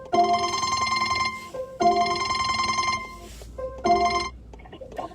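A phone rings with an incoming direct call, its electronic ringtone repeating in three loud bursts separated by short gaps, clear and close with no talking.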